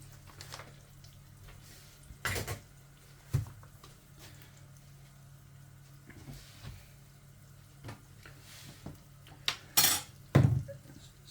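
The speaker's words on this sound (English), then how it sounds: "So it says stir well to make like a roux-like paste." Flour being stirred into a roux-like paste in a pan for a homemade fish pie, with soft intermittent scrapes and clinks of a utensil against the pan and a few louder knocks near the end, no talking.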